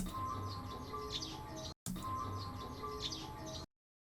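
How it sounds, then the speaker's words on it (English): Birds chirp and tweet steadily over a dense outdoor ambience of insects and low hum, repeated as a short loop with a brief gap. "It's got the birds tweeting in there."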